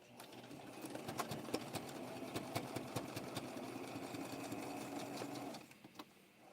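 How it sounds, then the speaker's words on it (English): A Brother sewing machine stitches steadily at close range with a rapid mechanical whir and regular clicks, stopping near the end. "I'm using a Brother sewing machine"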